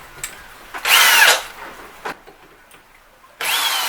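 A drill boring through tile whines in two short bursts, the first loud and about half a second long, the second starting near the end, separated by quieter tapping and scraping.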